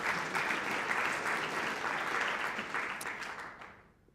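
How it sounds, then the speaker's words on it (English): A church congregation applauds during a sermon message, a dense, steady wash of clapping that fills the space and fades out near the end. "it's okay to clap"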